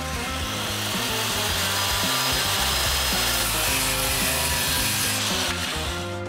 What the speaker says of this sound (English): There's some piece of wood Megan wanted me to cut.